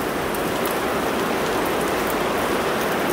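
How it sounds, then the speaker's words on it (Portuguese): Steady rain falls outside a garden full of orchids and plants, a dense, even hiss of drops that stays constant and fairly loud throughout with no voices over it. "E a chuva cai lá fora."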